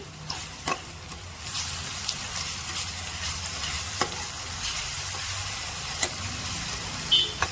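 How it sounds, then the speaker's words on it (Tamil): Ginger garlic paste with onions sautéing in hot oil, a steady close sizzle and hiss broken by a few light stirring scrapes and taps, with no talking. "இஞ்சி பூண்டு பேஸ்ட் போட்டு நல்லா வந்து கொஞ்சம் எண்ணெயிலே வதக்குங்க"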